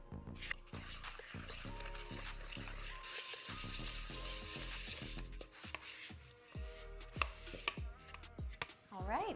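Graham cracker crumbs, brown sugar, salt and melted butter are stirred together in a bowl, giving irregular scraping, clinking and rubbing strokes close to the microphone, with a few sharper knocks near the end.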